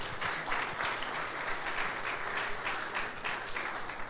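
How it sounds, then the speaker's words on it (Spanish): A church congregation breaks into sustained applause, a dense, steady wash of clapping that fills the room for several seconds without pause. "Démosle un aplauso al Señor"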